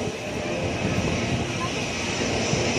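A jet airplane taxis toward takeoff near Mumbai airport, its engine a steady, broad rumble and whine heard from a short distance, continuous and unchanging.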